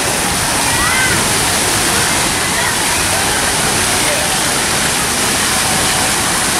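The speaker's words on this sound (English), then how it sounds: "every so often the bucket, the Hive dumps" At Soaky Mountain Waterpark in Sevierville, Tennessee, the giant Hive bucket in a water play area with small slides dumps water, producing a loud, sustained, dense splashing cascade that fills the entire stretch.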